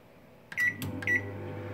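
Microwave oven running to melt chocolate, with a low steady hum, then a pair of sharp electronic beeps and clicks from the controls as it starts up.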